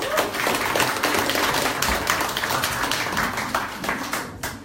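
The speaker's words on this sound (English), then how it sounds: "Please give her a warm round of applause." Audience applause at an enterprise meetup held at an agricultural university, a steady dense clapping from a roomful of people that carries on evenly for several seconds and tapers slightly near the end.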